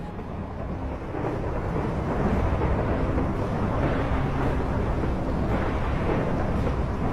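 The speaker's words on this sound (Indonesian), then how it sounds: "pas banget waktu dia terbang muncul banyak petir" Thunder rumbles through a lightning storm in the Minecraft video game, a continuous deep roar that swells after the first second and rolls on steadily throughout, with no talking.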